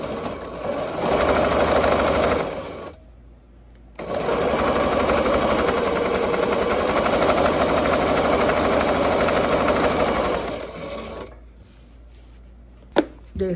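Sewing machine joining two pieces of shorts fabric, a loud continuous whirring stitch run, broken by a short pause and stopping near the end, with almost no talk.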